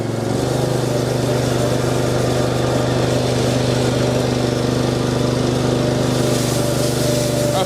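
The engine of a Westermann Cleanmeleon CM2 cleaning machine runs close by in a loud, steady drone that holds nearly constant throughout, with no talking.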